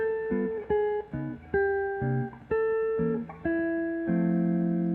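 Jazz guitar chords from a chord-melody arrangement of a song are played staggered, with notes of each voicing entering one after another through a sequence that includes tritone substitutions, clean and close, about a dozen chord changes with no talking.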